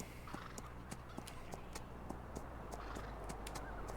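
Horse hooves clip-clop at a steady walking rhythm in Farming Simulator 19, evenly spaced sharp knocks over a constant low background hum, fairly quiet and close.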